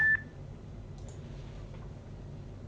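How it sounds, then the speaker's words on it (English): A Twitch notification beep marks a stream going live during an iRacing session: one short, sharp tone right at the start, followed by faint low background hum. "that beep you heard, that was just Twitch telling me that I'm streaming"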